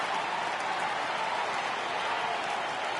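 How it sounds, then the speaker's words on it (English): A stadium crowd in a baseball video game rises on a full 3-2 count, producing a continuous, even wash of cheering and clapping with no distinct peaks. "Crowd gets up for the 3-2."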